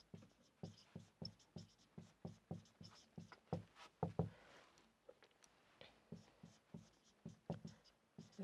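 Marker or chalk tapping and scratching on a board while notes are written, a steady series of short taps and strokes heard close, with brief pauses between words.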